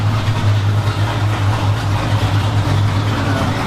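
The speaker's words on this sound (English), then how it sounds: "Right now, just letting it idle. Get some heat in the motor" A Dodge Challenger Redeye Hellcat supercharged engine idles while strapped down on a dyno, giving a loud, steady, deep burbling drone that holds unbroken throughout.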